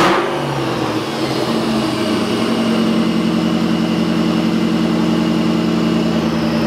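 Mustang Terminator engine fitted with a ported supercharger blower, idling steadily and loud throughout, with a constant low rumble and whine from a brief revving start; no talking.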